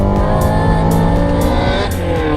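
Ferrari 360 Modena with its 3.6-litre V8 and exhaust, a steady close low-rpm burble with strong harmonic drone, rising slightly toward the end, running alone with no talk.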